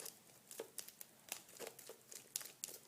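Scissors cutting a plastic book cover, a series of soft crinkling snips at an irregular rhythm, close and quiet, with no talk.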